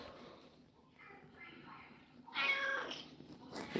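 An eight-year-old female show cat meows a few times at moderate loudness, with a louder burst near the end, while someone talks in the background.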